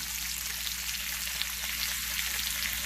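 Chicken frying in a cast iron skillet, a steady dense crackling sizzle with fine popping, close and continuous, no voices.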